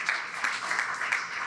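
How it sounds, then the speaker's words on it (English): Audience applause at a state comptroller's Caribbean Heritage Month celebration, a steady wash of clapping held at an even level through a short stretch. "That deserves a round of applause"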